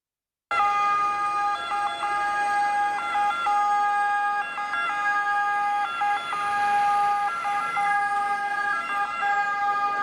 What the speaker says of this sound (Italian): I pompieri arrivano a sirene spiegate